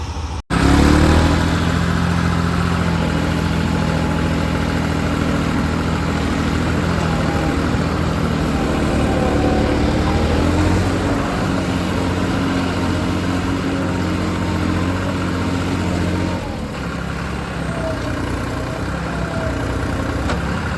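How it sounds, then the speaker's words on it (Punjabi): A tractor engine chugs steadily close by as the tractor turns with a trolley during a maize harvest, a deep, loud idle with occasional revs that eases slightly near the end. "ਮੋੜੀਏ ਟਰੈਕਟਰ"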